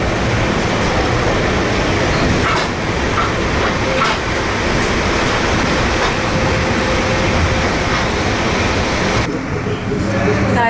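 Indian passenger train running on a short one-stop ride, a loud steady rumble of wheels and carriage noise filling the whole stretch, with faint rhythmic clatter and occasional knocks, no clear talk.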